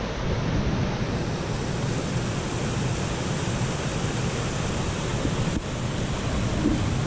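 Creek water rushes continuously through a Big Sur stream, a broad steady roar of flowing water that stays close and loud from start to end with no other sounds.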